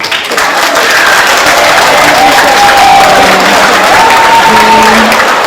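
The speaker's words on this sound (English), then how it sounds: "Give yourself a round of applause." A live audience at a poetry and music performance breaks into loud, full applause with cheering, a sustained roar of clapping from a crowd with scattered voices and whoops rising within it.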